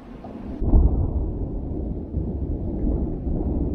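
A deep roll of thunder swells up after a brief moment and rumbles on steadily, loud and low, with no one speaking.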